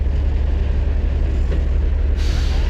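A tractor truck stuck in a traffic jam idles with a heavy, constant low engine rumble, then its air brake lets out a sudden loud hiss of released air near the end.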